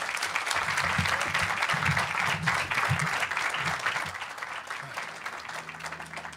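Audience applause at a graduation celebration for undocumented graduates, a steady wash of clapping from a large crowd that thins and fades toward the end, with low murmuring voices underneath.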